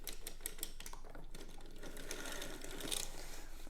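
A circular sock knitting machine is cranked while working a heel, giving a fast, steady mechanical clatter of needles and cams at low volume, continuous throughout with no voices.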